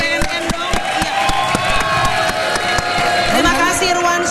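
An audience at an Indonesian anti-drug event cheers and claps in a loud burst, with rhythmic clapping and whoops mixed under an amplified voice speaking.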